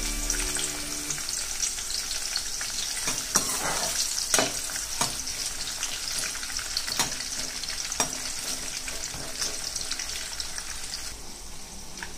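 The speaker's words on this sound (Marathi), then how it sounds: "एक कांदा आपल्याला लांब लांब कापलेला आहे मी, तो आता लालसर होईपर्यंत भाजून घेते।" Long-cut onion slices sizzle steadily in a hot pan as they brown, a continuous bright frying hiss broken by scattered clicks and scrapes of stirring, with no voices.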